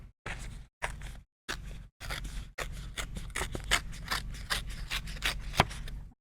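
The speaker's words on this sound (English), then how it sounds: "In fact, let's tear some paper." Sheets of card-making paper being torn by hand at close range, a run of crisp ripping bursts with short pauses between the first few, then a longer, continuous, rougher tear.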